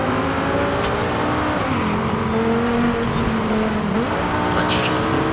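An Audi R8 engine in Forza Horizon 5 on Xbox Series X howls loud and steady under hard acceleration, its pitch climbing, dipping briefly at a gear change and rising again.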